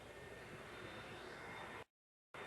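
A jet dryer drying the rain-soaked track at a NASCAR race at New Hampshire, a steady, broad roar of jet-engine exhaust that cuts to silence briefly near the end before returning.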